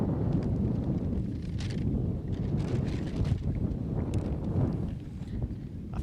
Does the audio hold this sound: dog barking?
no